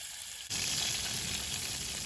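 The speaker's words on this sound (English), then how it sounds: "So it really doesn't take long to cook these fish at all." Fish cooking in a pot on a camp stove on a trail in Yosemite National Park, a steady close sizzle and spit that suddenly grows louder partway through and then holds, with no talk.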